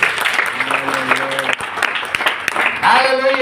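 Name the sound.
congregation applauding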